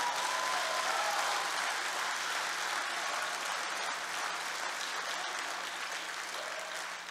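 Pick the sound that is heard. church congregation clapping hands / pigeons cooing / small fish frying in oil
church congregation clapping hands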